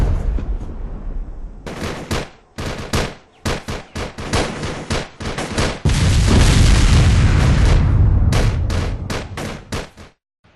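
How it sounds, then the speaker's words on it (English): Indirect artillery fire in a battle at a combat outpost in Afghanistan: a loud barrage of booming blasts and rapid gunfire, with repeated heavy impacts that merge into a sustained roar. "Indirect fire from Fob Bostik began in support of COPKeating."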